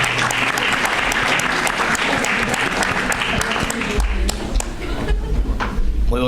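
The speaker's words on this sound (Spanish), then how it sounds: "Un fuerte aplauso de nuevo." A school audience at a cancer round-table event gives a strong round of applause, dense and loud clapping that thins slightly near the end, with a few thumps and low voices mixed in.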